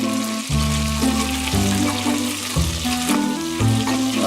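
Garlic powder is stirred into pumpkin soup in a pot, giving a steady bubbling sizzle under a low, droning tonal hum that shifts pitch every second or so, with no talking.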